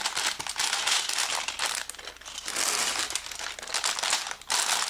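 Plastic bag from a Lego NASA Apollo Saturn V set torn open, giving close, continuous crinkling and rustling that rises and falls for several seconds.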